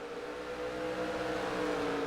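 A racing truck at the Brands Hatch road course holds a steady, loud engine drone with a whirring tone that rises slightly toward the end, with no voices.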